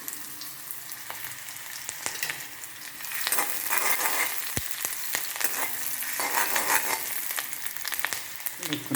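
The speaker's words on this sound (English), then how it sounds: "So on this heated oil, I'll add some onions." Onions are dropped into hot oil on a home stove for a Nepali-style shrimp curry. They give a steady, close sizzle and crackle that swells partway through and keeps going with no voices.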